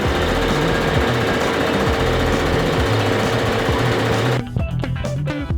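A sewing machine runs a zigzag stitch along the raw edges of old clothes being mended, a loud, steady, close-up mechanical chatter that continues almost without pause and thins into separate knocks near the end.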